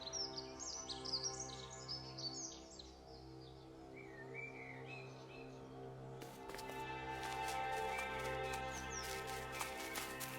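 Birds in the video game The Last Campfire chirp in quick, bright twittering bursts over a soft musical bed, fading midway as a band of plucked, sparkling tones takes over.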